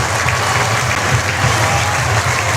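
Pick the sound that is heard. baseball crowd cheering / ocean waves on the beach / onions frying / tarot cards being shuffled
baseball crowd cheering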